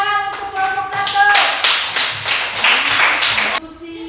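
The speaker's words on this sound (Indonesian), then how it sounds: "Tepuk tangan untuk kelompok 1." A classroom of students gives a short burst of brisk clapping for a student group, loud and close for about two seconds after a voice speaks, then fading back toward talk.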